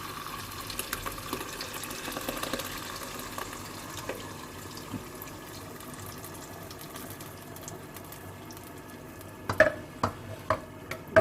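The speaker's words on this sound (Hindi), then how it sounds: "अब मैं यहाँ पे ऐड करूंगी दाल, जिसको मैंने ब्लेंड करके रख लिया था गल जाने के बाद" Blended lentils go into masala in a pan and get stirred, making a soft wet sizzle with scraping stirs and a few sharper clinks of a spoon near the end, with no speech.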